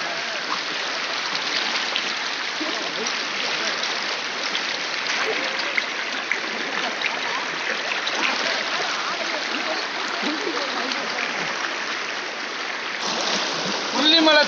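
Water from Puliyancholai waterfall rushes down a stream in a steady, loud hiss that continues unbroken throughout.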